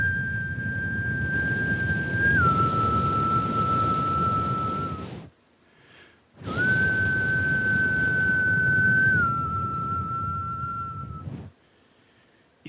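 A soft, gentle whistle holds a steady pure note, steps down slightly in pitch, pauses briefly and returns the same way, over a low murmuring background.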